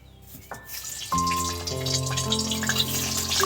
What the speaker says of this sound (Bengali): কেটে রাখা আলুগুলো আমি কড়াইতে দিয়ে দিচ্ছি।